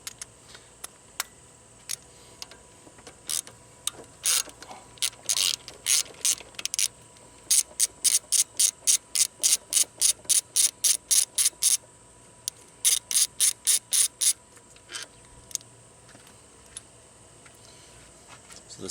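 A 13 mm ratchet wrench clicks in quick bursts during an engine teardown of a Grand Am, sharp ratcheting runs repeating close up with short pauses between strokes.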